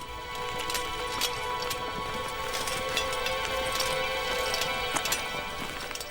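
Horses marching in a column, hooves clip-clopping in an irregular, layered patter over a steady background wash, moderately loud and with no speech.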